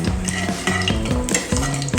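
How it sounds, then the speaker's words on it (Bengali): Bengali five-spice seeds sizzle in a little hot oil in a pan, a close, continuous crackle with rhythmic scraping of a stirring utensil and no talking. "তেলটা গরম হয়ে গেছে, এখন এটার সাথে 5 ফোড়ন দিয়ে দিচ্ছি।"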